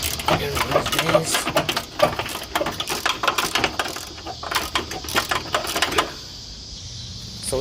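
A bolt being unscrewed to take out the headlight of a 1995 Honda Civic: quick, close metallic clicks and rattles in bursts, then a quieter stretch at the end.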